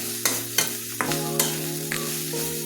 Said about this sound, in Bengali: মাংসটা আমার প্রায় ভাজা হয়ে গেল।